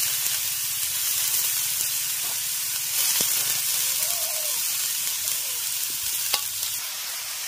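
Chopped, washed cabbage goes into a spice mix frying in a pan, raising a steady loud hiss and sizzle that holds throughout, with a few faint clicks and scrapes on top.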